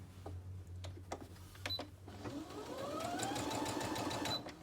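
A Brother Innovis A150 sewing machine: a low motor hum and a few clicks and button beeps, then stitching starts, with a rising whir and rapid needle chatter that stays close and steady.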